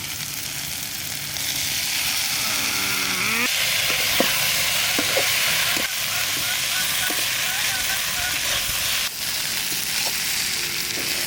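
Turmeric, snails and parwal sizzle loudly in a hot pan in a village kitchen, a continuous frying hiss broken by clattering stirs and scrapes of a utensil.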